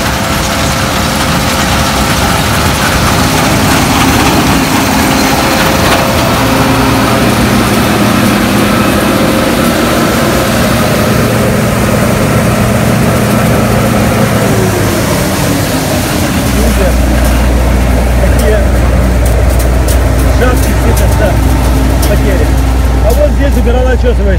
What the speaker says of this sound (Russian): Попытаемся этой жаткой сначала на маленькой скорости пройти